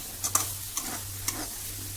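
Ground cumin and chilli powder fry in a pan with a soft continuous sizzle, punctuated by a few distinct scraping strokes of a spoon stirring the spices.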